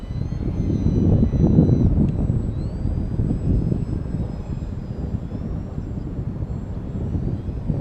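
An FT Simple Scout radio-controlled plane fitted with a slow fly prop flies overhead, its small motor giving a steady, fairly soft buzzing drone that swells slightly early on and then holds, with no talk.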